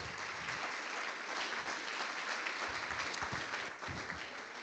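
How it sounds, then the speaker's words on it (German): Applause follows a lightning talk at a tech conference, a steady wash of clapping from a room audience, fairly distant and soft, continuous throughout with a few brief low thumps. "Dir Susan, dein Applaus."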